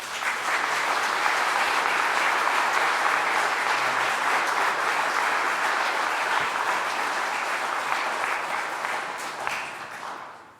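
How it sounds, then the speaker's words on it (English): A large audience applauds at a recovery-speaker event, a dense, loud, sustained clapping that runs about ten seconds before fading out at the end. "Let's give him another round of applause,"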